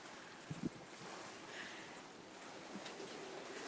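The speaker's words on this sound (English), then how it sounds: "just listening to the lovely sound of water lapping against the shore" Water of the Rhine in Cologne lapping against the riverbank while a cruise ship passes, a steady soft wash with a few small splashes and light wind noise.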